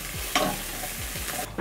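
Onions frying in a pan for a spicy tilapia stew, a dense close sizzle that holds steady throughout with a few soft knocks, no talking.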